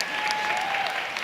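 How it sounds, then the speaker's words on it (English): Audience at a Women of Color luncheon applauds steadily, a dense, even wash of clapping from a full room throughout the short burst. "A round of applause for my sister"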